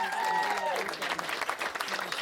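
Wedding guests break into a short burst of clapping indoors during a speech, with voices talking over it.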